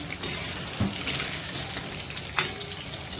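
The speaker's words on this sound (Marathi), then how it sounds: "त्याच्यातच मी मिरच्या पण टाकले चार थोडं फ्राय करायला" Four slit green chilies fry in hot oil with a steady soft sizzle, punctuated by a few brief pops and stirring taps, close by and without talking.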